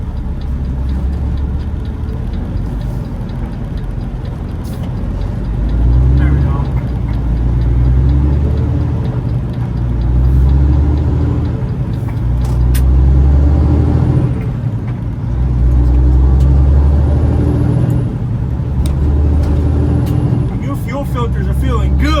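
A truck's engine runs steadily while it pulls an equipment trailer, a loud low drone that swells and eases as it works through a turn and gears, with a person talking over it.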